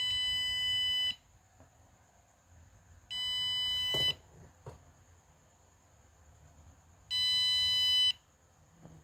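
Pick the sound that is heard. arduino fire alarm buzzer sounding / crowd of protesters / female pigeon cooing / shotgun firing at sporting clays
arduino fire alarm buzzer sounding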